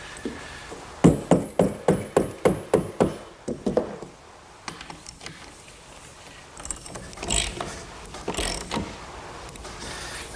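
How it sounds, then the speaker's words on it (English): A socket ratchet clicks rapidly in a quick series while fastening a bolt into a picnic table in a woodworking shop, followed by a few heavier knocks and handling noises, close and moderately loud. "Now I'll just use a socket and fasten it down."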